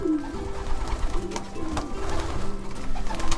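Soft, low pigeon coos repeat close by, layered over a faint background murmur.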